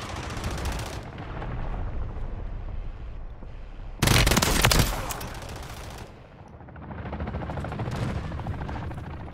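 Rapid automatic gunfire rattles loudly and continuously in a Call of Duty multiplayer match, with bursts overlapping, a sharp louder explosion-like blast midway, a brief lull, then more sustained firing.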